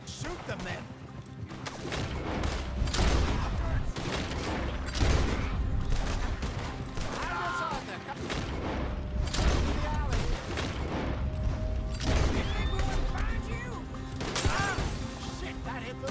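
Gunfire in a Red Dead Redemption 2 shootout, repeated loud shots and bursts scattered throughout with crashes, under shouted character dialogue.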